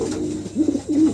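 Pigeons coo nearby in two soft, low, throaty rolling calls, close to the microphone and clear over a steady background hush, with no talking.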